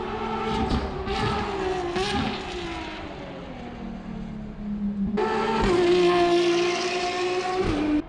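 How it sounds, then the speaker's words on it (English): A white Ferrari speeds around the Ferrari test track, its engine rising and falling in pitch as it passes, fading then surging back loud near the end, heard from just outside the facility. "a white Ferrari, and it's hauling ass."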